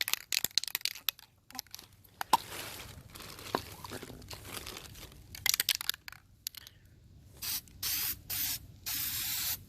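Bursts of DEI high-temperature silicone coating sprayed from an aerosol can onto a BMW N55 Circuit Works downpipe: scattered short hisses early, then several long, steady, close sprays near the end, with shaking and handling noises between.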